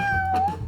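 A cat's meow, a short drawn-out tonal cry at close range in a lively indoor party scene, with a low background hum beneath it.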